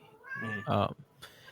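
A pet cat lets out one clear, drawn-out meow up close, followed by a fainter short sound after a brief pause.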